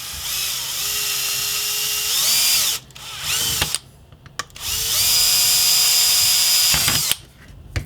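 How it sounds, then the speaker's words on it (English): A power drill whines loudly in two long bursts as it bores holes through the plastic of a Nerf blaster, pitch dipping under load, with short gaps and clicks between passes. "all of these fake holes here, I want to drill out so that they will be real holes. And I'm going to do it with my drill."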